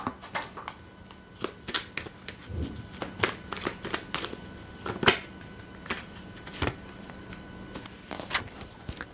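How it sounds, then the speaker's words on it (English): Tarot cards are shuffled by hand in a series of sharp riffles and soft slaps, irregular and close up, with no voices. "So I'm going to start shuffling"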